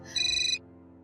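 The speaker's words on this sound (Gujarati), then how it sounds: "રિંગ તો વાગે છે." A telephone ringtone sounds once on an outgoing call, a short bright electronic tone lasting about half a second with steady lower tones continuing faintly after, clear and close with no talking.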